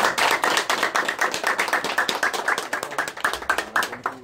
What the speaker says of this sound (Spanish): vamos a dar un aplauso a